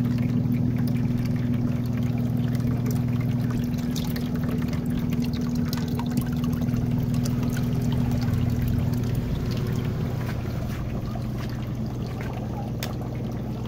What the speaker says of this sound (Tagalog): magdagdag tayo ulit tubig